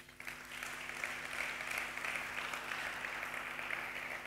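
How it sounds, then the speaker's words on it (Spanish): A church congregation gives a steady round of applause, faint and even, a continuous patter of many hands without speech. "Dan un fuerte aplauso a Jesús."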